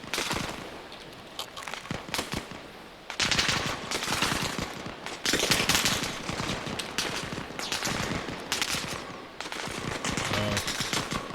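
Sustained machine-gun bursts and rifle fire from the video game Arma Reforger, loud and dense, with short lulls between heavy volleys.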